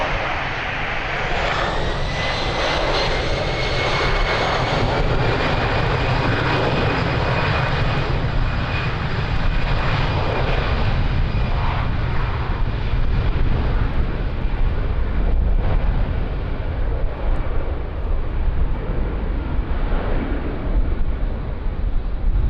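A jet airliner roars through its takeoff run at Lisbon Airport on a windy day, a loud, sustained engine rumble with a rising whine that stays close and steady throughout, wind buffeting underneath.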